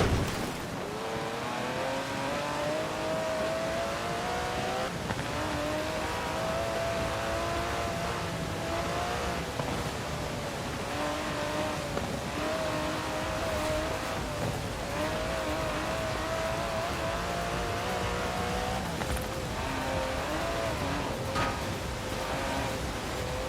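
Aston Martin DB11 engine driving in Forza Horizon 4, a steady, close engine drone with rising and falling revs across gear changes, sustained without a break and with no talking over it.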